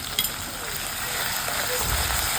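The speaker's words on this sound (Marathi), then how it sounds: "त्याला पण आपण छान फ्राय करून घेऊया ठेच्याला भरतासाठी." Crushed green chili, ginger and garlic paste fries in a pan, a steady close sizzle and crackle with faint clinks of stirring, continuous and fairly quiet throughout.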